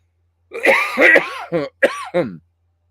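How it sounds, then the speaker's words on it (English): A series of harsh, raspy coughs and throat-clearing bursts during a live radio program, close up, with a couple of short hacks at the end and no talking. "Sorry about the cough again"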